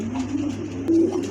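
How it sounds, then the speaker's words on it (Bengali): A pair of pigeons in a showroom cooing close by, soft low throaty coos repeating in a short rhythmic run, with a stronger coo near the end. "এখানে একজোড়া কবুতর আছে দেখেন মাশাআল্লাহ"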